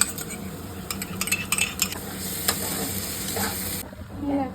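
Ginger garlic paste is sautéed in a pan, with a spoon scraping and clinking against metal over a steady, moderate sizzle that drops away near the end.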